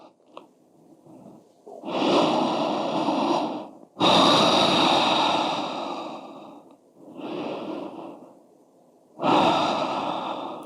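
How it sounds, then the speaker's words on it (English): Deep yoga breathing: four long, close breaths, each a strong, airy rush that swells and fades, with short quiet pauses between them. "And breathe."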